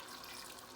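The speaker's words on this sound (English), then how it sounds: "94 grams of water in a bowl. So over the pot and in it goes." Water pours from a bowl into a cooking pot as a steady, soft splashing stream that is brief and continuous, with no speech over it.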